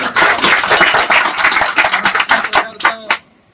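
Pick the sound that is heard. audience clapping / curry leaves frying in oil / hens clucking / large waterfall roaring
audience clapping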